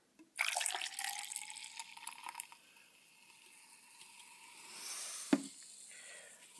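Raspberry soda poured from a can into a battle-style drinking horn, a bright splashing, trickling pour that runs for about two seconds, then a softer fizzing rush and a single sharp knock near the end, with no talking.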